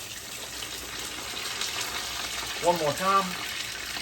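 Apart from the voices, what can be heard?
flounder fillet frying in a pan after flipping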